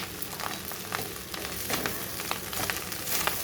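Vegetables fry in a pan for fried rice, giving a steady, fairly quiet sizzle with small crackles and occasional stirring scrapes, close and continuous with no voices.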